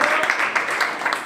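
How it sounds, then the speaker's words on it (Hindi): Steady applause from a crowd at an office opening, a continuous dense patter of clapping that holds at an even level throughout. "ताली"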